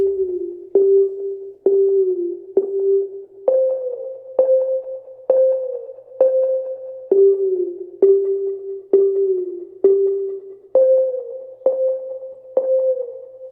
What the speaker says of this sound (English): The next sound I have here is a Pluck from the same one-shot kit.